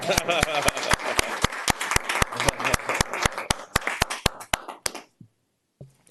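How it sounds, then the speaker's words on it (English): Applause at a city council meeting in Hayward, with sharp, evenly spaced claps that sound close and loud, as if from a few nearby hands, and that thin out and stop after about five seconds. "Let's give her another big round of applause."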